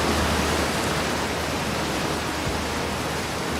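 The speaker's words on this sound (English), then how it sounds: "let's get away from the very loud waterfall" A loud waterfall in the video game Outer Wilds roars as a steady, dense wash of rushing water, filling the whole clip without pause and drowning out everything else.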